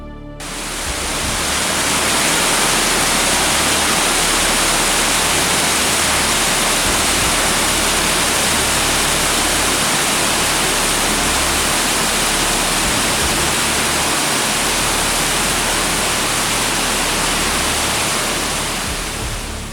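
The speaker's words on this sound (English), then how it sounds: "A roaring noise can be heard ahead as they approach the waterfall of Alum Pot." Roaring underground waterfall in Alum Pot cave, a dense, steady broadband rush of falling water that fills the whole stretch at constant loud level, close and enveloping, with no voices.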